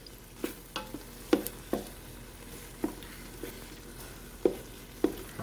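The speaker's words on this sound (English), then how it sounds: "Okay, let them simmer just a bit." Frozen peas simmer gently in a light cream sauce for ham and pasta, a quiet bubbling bed broken by soft, sporadic pops and spoon taps, with no talking.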